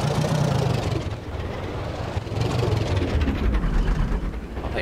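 A tractor engine runs in the DayZ video game, a steady low rumbling drone with a rough mechanical texture, continuous and fairly loud throughout.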